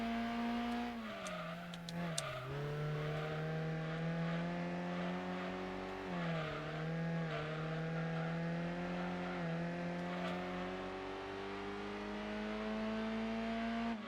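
A slow car's engine in the racing video game Gran Turismo 2 drones steadily at a constant mid-pitch, dipping and rising as it shifts and eases off, with faint tire noise and no talking.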